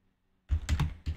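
Keys on a computer keyboard are typed in a quick burst of close, clacky strokes after a short silence, with a brief pause before a final pair of taps.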